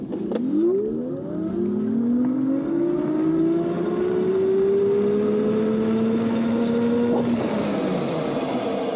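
Juiced Scrambler HT e-bike accelerating hard on throttle at max assist, a rising motor whine that climbs steadily in pitch for several seconds before cutting off, with steady road and wind noise around it.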